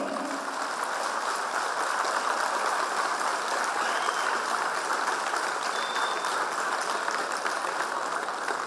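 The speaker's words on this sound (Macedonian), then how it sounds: "Затоа еден голем аплауз за двете друштва." Dense, steady applause from a studio audience on a morning TV show, honouring two folk dance ensembles, loud and continuous for several seconds without a break, no voices over it.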